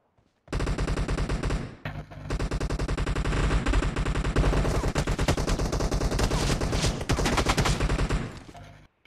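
Rapid, sustained bursts of automatic gunfire in a video game team deathmatch, loud and close, with a brief pause early on before the firing resumes and continues almost to the end.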